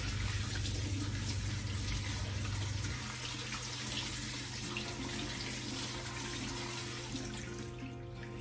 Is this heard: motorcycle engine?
no